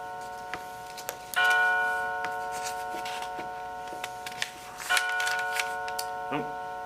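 A clock chimes in a room during a budget committee meeting, ringing sustained bell tones twice. Faint ticks, taps and low room noise sit around the chimes.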